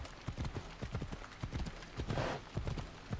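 Horse hooves clip-clop at a steady trot in Assassin's Creed Odyssey, close and even, with a faint hum underneath.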